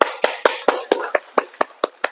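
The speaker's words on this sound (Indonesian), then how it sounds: "Oke, tepuk tangan." After a group presentation, a classroom claps in sharp unison, about ten crisp, evenly spaced claps in a quick steady rhythm, close and fairly loud with nothing else heard between them.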